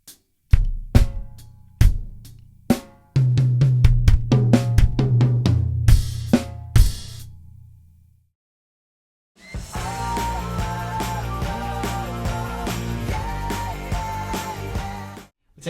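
A drum kit plays a groove from a song, with open hi-hat, snare and bass drum. Crisp separate hits build to steady driving playing, a short gap of silence follows, and then a dense, continuous groove with ringing cymbals comes back in, close and loud.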